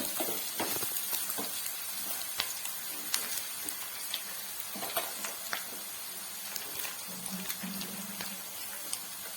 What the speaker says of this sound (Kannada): ಹಸಿಮೆಣಸಿನಕಾಯಿ ಮತ್ತು 2 ಈರುಳ್ಳಿನ ಚೆನ್ನಾಗಿ ಫ್ರೈ ಮಾಡ್ಕೊಳ್ಳೋಣ